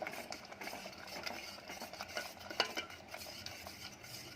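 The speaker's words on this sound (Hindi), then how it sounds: "अच्छे से मिक्स करेंगे" Paan sharbat with green food colour being stirred in a pot, soft swishing and light scraping of a spoon with one sharp clink, quiet and close.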